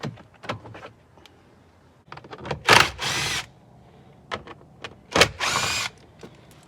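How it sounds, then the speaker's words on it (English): A plastic cubby is pulled by hand from the dashboard of a 2017+ Ford F-250 Super Duty. Scattered clicks and knocks lead into two loud, harsh scraping bursts of plastic working loose. "just go ahead and pull on it hard and it'll come right out"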